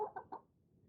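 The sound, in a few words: hen making soft sounds while being picked up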